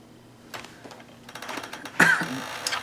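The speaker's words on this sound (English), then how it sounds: "Thought this cough was gone." A man coughs a few times, with a sharp loud burst near the end and smaller coughs or throat sounds before it, close to the mic and with no speech.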